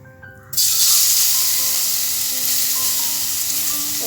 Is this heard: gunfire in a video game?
no